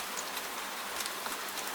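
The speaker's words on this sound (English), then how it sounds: "The rain falls and falls and falls and falls." Rain falling at night over a sleeping medieval city, heard beyond the shutters: a steady, soft, even patter that stays at the same gentle level throughout.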